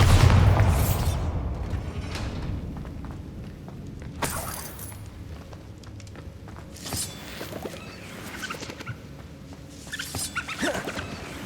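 A Bombarda spell explosion in Hogwarts Legacy, a deep boom at the start that fades into softer rumbles, clinks and scattered debris sounds, with a few sharper bursts later on.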